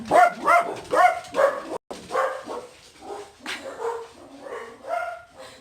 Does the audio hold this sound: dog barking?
yes